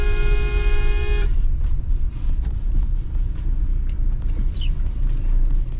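A Mahindra Scorpio S10 SUV rumbles along a narrow village street, its engine droning steadily throughout, with a sustained car horn toot at the start before the vehicle carries on alone.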